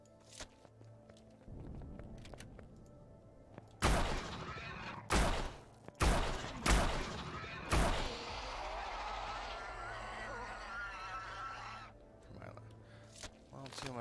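Gunfire from weapons in the survival game Empyrion Galactic Survival, set in a freezing environment: several loud sharp shots in a quick irregular cluster, then a sustained noisy rumble over a low hum, with faint talk.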